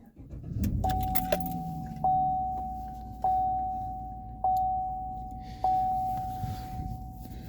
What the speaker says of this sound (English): Let's fire the truck up first.